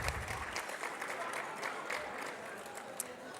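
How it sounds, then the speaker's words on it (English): Audience applause at an awards luncheon, a dense wash of clapping from a large crowd in a banquet room, steady and moderately loud throughout with a few sharper claps standing out. "Let's give all these beautiful kids a big round of applause."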